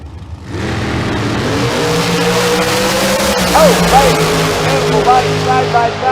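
Chevrolet dragsters race side by side down Famoso Dragstrip, a loud sustained engine roar with rising harmonic whine, heard under a track announcer's commentary.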